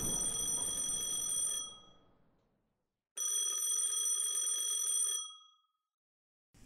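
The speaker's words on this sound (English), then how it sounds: "As the elevator dinged, the phone began to ring again." A telephone bell rings in two long, loud, bright bursts separated by a short silence, the electronic tone sounding close and clear with nothing else alongside.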